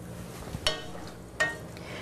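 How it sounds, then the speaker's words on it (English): Risotto is stirred in a pan as the stock cooks off, with a soft, faint simmer broken by a few distinct scraping strokes of the spoon spaced under a second apart. "you just stir until the stock evaporates"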